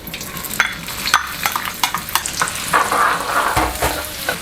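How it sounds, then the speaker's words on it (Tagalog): Onions frying in hot oil for a Tausug beef kulma, a close, steady sizzle with repeated scraping and clattering stir strokes, no voices over it. "Maglagay tayo ng oil. So, lagay natin yung ating sibuyas."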